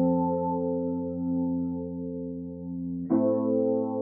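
Unfiltered Rhodes electric piano plays sustained chords, warm and mellow, with one chord held for about three seconds before a new chord strikes and rings on, close and alone.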